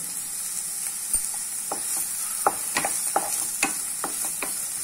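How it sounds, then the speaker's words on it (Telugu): Chopped onions fry in a pan with a pinch of salt while a spoon stirs them, giving a steady bright sizzle broken by scattered close scrapes and taps against the pan. "కలుపుకుంటున్నాను ఉల్లిపాయలు వచ్చేసి మనకు ఫైనల్గా గోల్డెన్ బ్రౌన్ కలర్ అవ్వాలండి"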